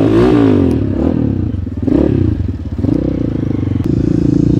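A loud 250cc dirt bike, an Asian Beast 250, revs close by, its engine note surging up and dropping back in several bursts with a rough mechanical rattle.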